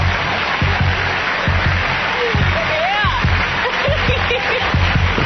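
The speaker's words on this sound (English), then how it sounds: "Why are they applauding?" Studio audience applause on a trivia show, a steady, dense patter of clapping at moderate loudness with talking voices over it.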